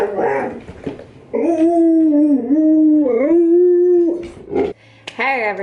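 Close dogs howl in long, wavering tones, mixed with short whines and yips, the howling sustained for several seconds before breaking into whimpers.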